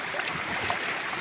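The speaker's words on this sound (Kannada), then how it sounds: "ಈಗ ನೋಡಿ ಯಾವ ಥರ ನೀರು ಹರಿತಾ ಇದೆ" Monsoon rainwater flowing steadily through a village in coastal hill country, a continuous broad rushing wash with no pauses, close and fairly loud, with no talk.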